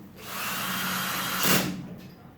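A power drill fitted with a hex head bit whirs steadily while backing screws out of a Maytag washer. It runs close and fairly loud for about two seconds and rises to a brief louder peak before it winds down.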